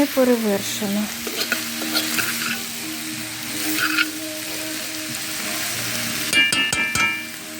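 Morel mushrooms with chopped green garlic frying in a pan, a bright continuous sizzle punctuated by stirring scrapes and a few utensil clinks near the end, close and clear without talk.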